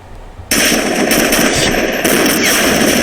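Sustained machine-gun fire in the Great War Of Army Men 5 video game bursts in abruptly after a brief quiet lead-in, then rattles loud and unbroken with a slight surge partway through.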